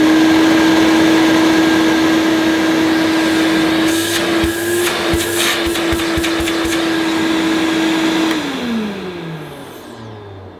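A Hoover portable vacuum cleaner runs loudly with a steady high whine and rushing air, a few clunks in the middle, then the motor winds down near the end.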